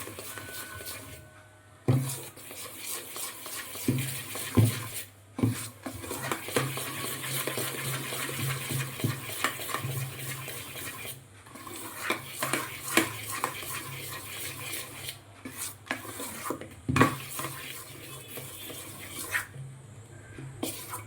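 Idli batter mixed with salt is whisked by hand in a container, a continuous wet slapping and scraping rhythm with occasional clinks and short pauses, close and moderately quiet.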